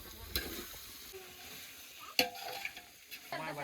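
Oily masala rice stirred in a pan over an outdoor fire on a hill, with a spoon scraping and clinking against the metal over a soft continuous sizzle.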